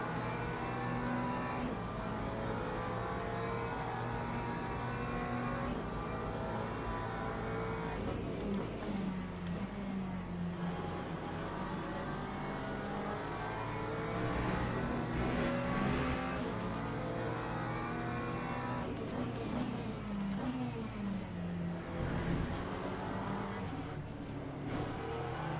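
A Ferrari race car roars at full throttle in the Le Mans Ultimate racing game, a loud, continuous engine drone whose pitch rises and falls through gear changes and corners, with other cars' engines blending in.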